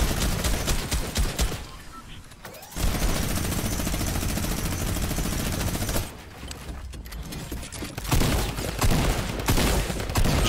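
A Thompson submachine gun fires in Fortnite in long rapid bursts, loud and dense, broken by short pauses, with game effects mixed in.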